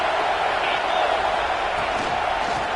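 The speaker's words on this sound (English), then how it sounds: "This crowd knows when to bring it." A football stadium crowd at a Texas vs Alabama scrimmage roars in a steady, dense wall of cheering, loud and unbroken with no distinct voices standing out.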